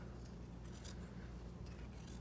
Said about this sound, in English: So I'm just gonna use my scissors.